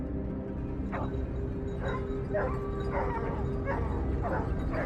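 A hunting dog barks on a red clay hillside during a wild boar hunt, a string of mid-distance yipping barks repeating roughly every half second over a constant low rumble of background noise.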